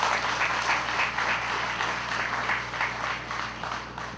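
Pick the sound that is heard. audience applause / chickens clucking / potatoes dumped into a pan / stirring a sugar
audience applause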